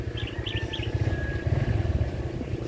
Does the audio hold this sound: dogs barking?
no